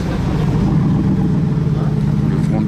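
A Koenigsegg supercar in Monaco gives a steady, loud engine drone that holds a deep low rumble without letting up.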